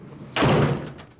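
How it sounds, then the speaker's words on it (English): A jail cell door slams shut once, a sudden loud metallic thud that rings briefly and fades, heard alone. "Stay like this until you hear the door close."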